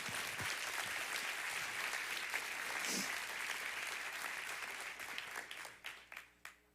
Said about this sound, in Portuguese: Pode dar uma salva de palmas ao Senhor Jesus.